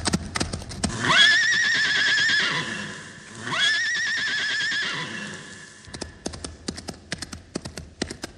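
A white horse in a ranchera song whinnies twice with long, loud neighs, while clip-clopping hooves tap in quick bursts before, between and after the calls.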